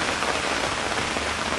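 Rain falling at a Winslow demolition derby makes a constant, close hiss of drops hitting the ground, even and uninterrupted, with nobody talking.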